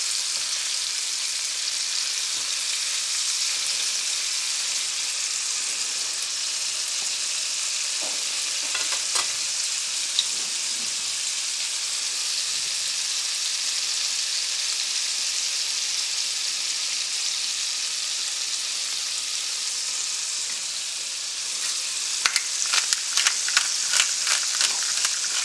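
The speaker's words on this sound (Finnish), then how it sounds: "paistetaan vaan tälleen pinta kiinni" Moose steak sears in a hot frying pan with a loud, continuous hiss and crackle, steady throughout, with a few sharper pops and clicks near the end and no voices.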